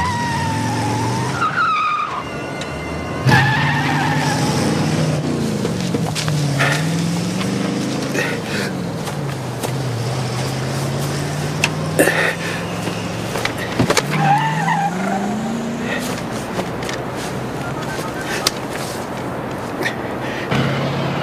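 A car starts and pulls away with tires screeching and skidding, the engine loud and revving steadily throughout, close by, with no speech over it.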